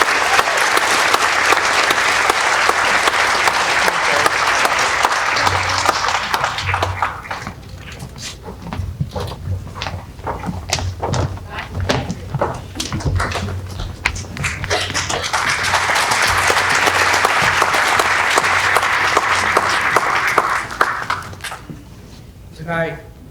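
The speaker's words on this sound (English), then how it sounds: "can we give him a round of applause" Audience at a high school mariachi performance applauds for Mr. Mario Castillo, loud dense clapping in two long bursts with a quieter stretch of scattered claps and speech between them.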